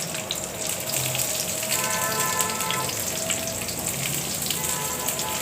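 Chopped onions with garlic, bay leaf and dried chilli frying in oil in a pan, giving a steady close-up sizzle with a bright crackling hiss that carries on evenly throughout.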